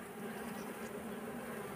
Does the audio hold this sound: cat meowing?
no